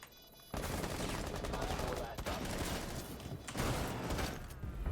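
Rapid gunfire bursts in the Rainbow Six tactical shooter game, dense and loud, continuing almost without break through the clip after a quiet opening, with sharp cracks layered over a steady roar.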